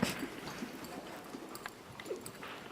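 Hooves of a horse in rising trot during a riding lesson, a soft steady clip-clop rhythm on arena footing, moderately distant and fairly quiet.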